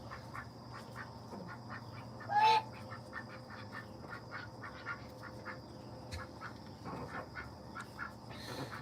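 Backyard ducks quack repeatedly at feeding time, a rapid stream of fairly faint calls over low background noise, with one louder nearby squawk partway through.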